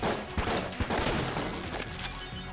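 Rapid bursts of gunfire from the video game Enter the Gungeon, dense overlapping shots and impacts crackling in quick succession, loud and continuous for the whole stretch with no voice over it.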